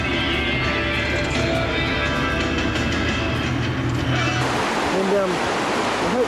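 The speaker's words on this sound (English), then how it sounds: "It's a glacier river." A rushing glacier river with greenish water sends up a loud, steady roar of flowing water that fills the scene, with voices faintly underneath.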